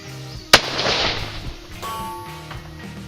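A single sharp shot from a Ruger American Predator rifle firing a Hornady 147g ELD load at a long-range shooting session, loud and close, followed by a short ringing tail and a faint distant impact.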